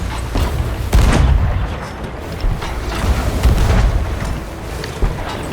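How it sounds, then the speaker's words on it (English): Cannons fire in a pirate video game, a dense, booming barrage of heavy blasts and rumbling impacts that carries on without pause and stays loud throughout, with no talking. "Ready the cannons!"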